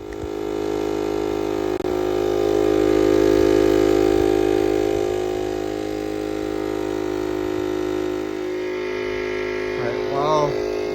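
An electric pump inflates a freshly plugged car tire on a GX 460, giving a steady, close motor drone and hum that drops slightly near the end.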